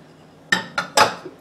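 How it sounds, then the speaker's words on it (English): Metal utensil clinks against a large mixing bowl as coconut flour and unsweetened shredded coconut are mixed, three or four distinct sharp knocks spaced apart over a quiet background, no talking. "I am going to mix the unsweetened shredded coconut, which is 3/4 cup"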